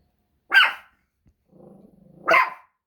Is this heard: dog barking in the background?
yes